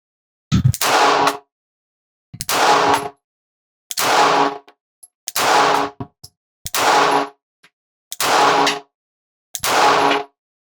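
Springfield Hellcat RDP 9mm pistol fired at a steel clacker target: seven evenly spaced loud reports, about one and a half seconds apart, each followed by a brief metallic ring.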